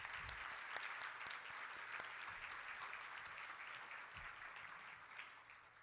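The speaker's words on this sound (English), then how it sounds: "Would you please help me give them a round of applause?" An audience at a charity luncheon claps steadily for several seconds, a dense even patter of many hands that tapers slightly near the end.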